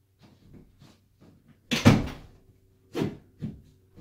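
A door shuts onto a fabric anchor strap with a short tube pinched in it, giving one solid, close thunk. A few softer knocks and taps come before and after.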